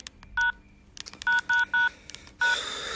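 Several short electronic keypad beeps sound in an irregular sequence, then a final tone as a hiss of noise begins.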